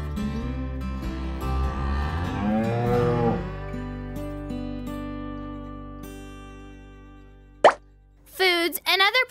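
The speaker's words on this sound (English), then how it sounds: "A whole group of cows is called cattle." Drawn-out cow moos, low and wavering, fading out before a few short sharp noises at the end.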